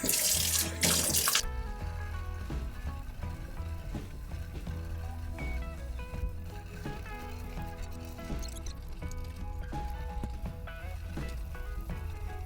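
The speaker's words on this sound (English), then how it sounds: "And then I'm gonna clean this nasty stuff as well with this brush." Water runs steadily from a tap as parts of a Levoit humidifier are scrubbed with a brush, a constant loud splashing rush with occasional clinks of plastic parts.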